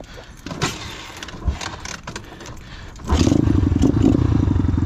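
X-Pro Titan 250cc dirt bike, started after sitting all winter, catching and settling into a loud, rapid, throaty idle up close after a few short cranking attempts.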